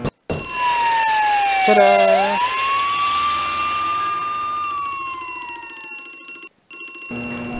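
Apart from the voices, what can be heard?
fire alarm ringing in Harvester video game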